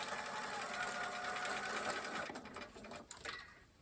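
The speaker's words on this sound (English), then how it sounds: "in order to take these out of my machine, I will just sew these two together" Sewing machine running steadily as it stitches two leader-ender fabric pieces together for a temperature quilt block, a continuous close mechanical whir that slows and stops near the end with a couple of small clicks.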